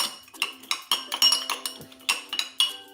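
A spoon stirs lemon juice and salt in a glass, tapping and clinking against the sides in a quick, steady rhythm of bright metallic chimes, close and clear.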